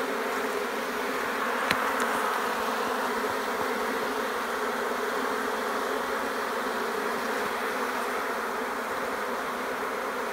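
Steady, dense buzzing of many honeybees close by in an opened hive, a continuous droning hum with no talking.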